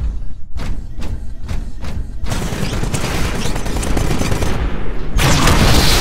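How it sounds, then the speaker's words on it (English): A Titanfall Titan's Vortex Shield firing back absorbed bullets: a few heavy separate thumps, then a dense, loud roar of rapid gunfire that keeps building and peaks in a harsh final burst. "This weapon absorbs incoming ballistics for a limited time, then refires them."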